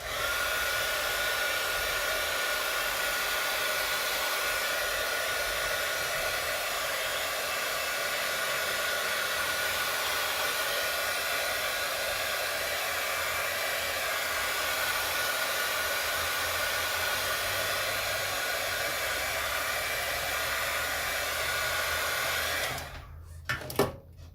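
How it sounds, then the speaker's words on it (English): A heat gun blows over alcohol ink to dry it, giving a loud, continuous whooshing roar that runs steadily for over twenty seconds before cutting off, followed by a couple of faint clicks. "I'm going to go back in with the heat gun."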